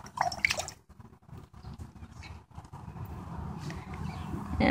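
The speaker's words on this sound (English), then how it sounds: "to get the hurricane started, we are going to spin our warm water in a circle with our stick" Warm water swirled in a circle with a stick for a hurricane model science experiment: a soft, continuous sloshing and splashing with a few drip-like bursts, fairly faint and close, with no speech.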